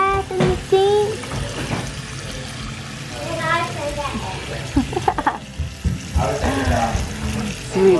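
Water splashing and pouring as a newborn baby boy is bathed in a sink, soft and intermittent under a person's gentle talking.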